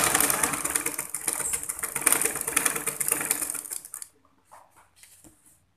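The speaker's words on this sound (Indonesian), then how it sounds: "Terus dijahit seperti ini sampai ujungnya." An electric sewing machine stitches a seam on a pleated skirt with a rapid, whirring mechanical chatter for several seconds, then stops, leaving faint handling noises.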